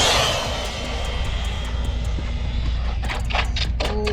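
An RC truck on a 3S battery roars past on a speed run, a loud continuous whining motor rush that fades slightly as it goes, followed by a few sharp clicks near the end.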